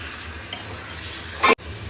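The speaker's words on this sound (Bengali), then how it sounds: "এই যে আমি এইভাবে ভেজে নেবো। আগে চিকেনটাকে খুব ভালোভাবে ভাজবো" Chicken pieces fry in a pan for Bangladeshi country-chicken chui jhal curry, giving a steady close sizzle with a louder scraping stir near the end before a brief cutoff.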